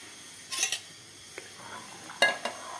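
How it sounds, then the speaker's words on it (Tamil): A spoon clinks and scrapes against a cooking pot while ground masala paste is stirred into a simmering vegetable kuzhambu, with a few sharp metallic taps among quieter scraping, no voices. "இந்த அரைச்சி வச்சுருக்க மசாலாவை நல்லா கரைச்சி விட்டு இதில் நல்லா ஊற்றி கலந்துடலாம்"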